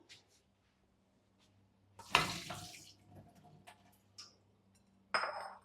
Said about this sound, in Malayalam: അപ്പോൾ ഇത് നമുക്കൊന്ന് വെള്ളം ഊറ്റിക്കളയാനായിട്ട് വെക്കാം.